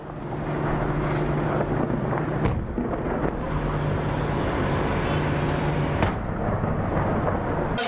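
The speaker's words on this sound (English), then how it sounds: "That's the bombing." Bombing in Syria at night: a rumbling, wind-buffeted roar with sharp explosive bursts punching through, two of them especially distinct, heard from a distance through a shaking microphone.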